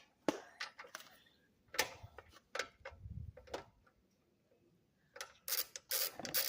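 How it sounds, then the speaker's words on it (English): A wrench tightens the center bolt holding the gas tank on a Murray 450 Series push mower, with close ratcheting clicks coming in short bursts separated by pauses. "the gas tank itself got to be tightened down in the center bolt"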